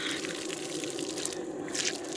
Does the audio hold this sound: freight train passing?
no